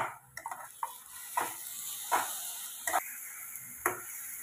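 Green chilli, garlic and coriander paste being sautéed in oil for kharda chicken: a soft steady sizzle broken by several distinct spoon scrapes and taps against the pan, close and fairly quiet.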